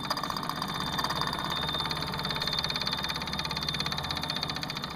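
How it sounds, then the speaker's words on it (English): A small desktop steam engine runs steadily, giving a continuous mechanical chuffing with a fast, even rhythm and a faint high whine, close and moderately loud with no talking. "A real working steam engine, right on my desk."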